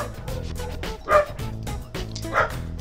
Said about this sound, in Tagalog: kasama ang mga kahol or tahol ng aking mga alagang aso